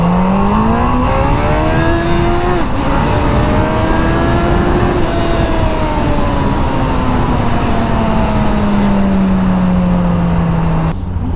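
A stock street fighter motorcycle engine under way, a loud, continuous high-revving wail that climbs and shifts pitch through gear changes, holding close and strong for the whole stretch with no voices over it.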